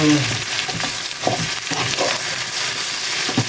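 Chicken feet sizzle and fry steadily in a pan with bay leaves, a close, continuous crackle with occasional stirring scrapes and no talking.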